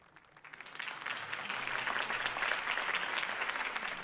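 Crowd applause after a campaign speech in a Batman video game scene, rising quickly from near silence into a sustained burst of many hands clapping at moderate distance.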